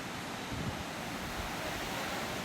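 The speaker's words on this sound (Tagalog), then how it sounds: "Ito, ini-enjoy pa niya yung laki ng alon." Big sea waves stirred up by a typhoon surge and crash in a steady, broad roar of surf with wind, fairly faint and continuous, without any voices.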